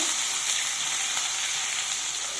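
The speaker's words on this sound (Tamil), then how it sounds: "கடாய் காஞ்சானா இப்போ கருவேப்பிலை, ஆனியன் போட்டுக்கலாங்க" Curry leaves and chopped onion frying in hot oil in a kadai, a steady, dense sizzle and crackle that stays loud and even throughout with no voices.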